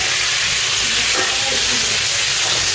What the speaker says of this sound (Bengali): এই আলু কষা হচ্ছে, আলু ভাজা হচ্ছে।